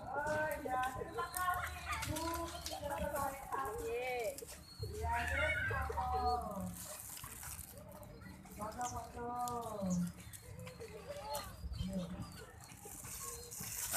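Pigeons coo and flutter while being fed in the morning, soft bird calls and wing sounds mixed under frequent nearby chatter from people.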